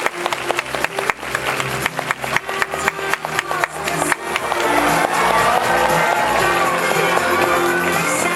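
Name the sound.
audience applause welcoming guests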